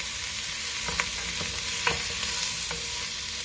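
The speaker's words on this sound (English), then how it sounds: "Love the smell of cooking onions." Onions sizzle steadily in a Dutch oven while a utensil scrapes and stirs them in a few brief strokes, the frying hiss continuous and close, with no talking.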